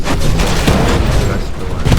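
Cluster missiles in the video game Titanfall burst in a dense, rumbling barrage of overlapping explosions, loud and continuous for a couple of seconds.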